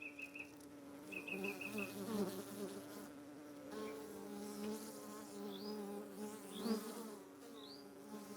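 Honey bees hum steadily around a hive during beekeeping, a close, continuous buzz with a few passing individual bees rising and falling in pitch.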